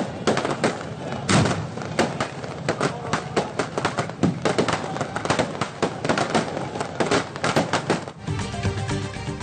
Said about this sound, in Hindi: कराची में क्लिफ्टन 3 तलवार पर जश्न आजादी की तकरीब में शानदार आतिशबाजी।